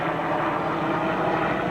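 Aircraft engines drone overhead after Hurricane Katrina as helicopters survey the storm damage, a steady, dense rumble filling the whole stretch with no talk over it.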